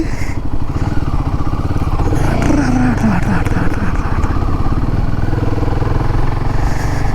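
A Royal Enfield Himalayan 450 motorcycle riding along a winding hill road, its engine droning loud and steady with shifting pitch as it leans through curves, wind rushing close over the mic.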